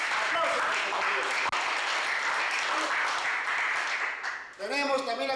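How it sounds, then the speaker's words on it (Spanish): Steady crowd applause fills the room at a legal forum of the SUTEP teachers' union in Barranca, dense and continuous, with a voice starting to speak over it near the end. "Aplausos, compañeros."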